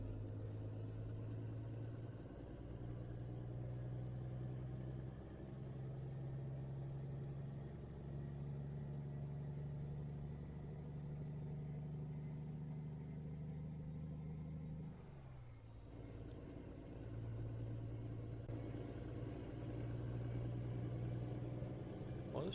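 A truck engine idles in American Truck Simulator, a steady low rumble that dips briefly midway before settling back into its even drone, with no talking.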